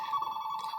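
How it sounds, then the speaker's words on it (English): A phone rings with a steady electronic tone, loud and continuous, sounding alone without any talk. "Sorry, that's my phone."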